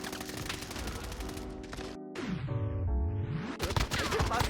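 Rapid gunfire crackles through a Warzone firefight, with bursts of shots running dense and steady, then a short gap and a deep swooping effect before the shooting resumes under game noise.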